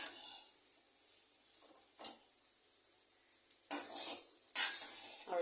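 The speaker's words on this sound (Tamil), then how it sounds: "நல்லா மிக்ஸ் பண்ணிக்கலாம்" Fish and egg podimas, made with sankara fish, stirred in a pan: soft scraping and light sizzling, with two louder bursts of frying noise near the end, close and brief.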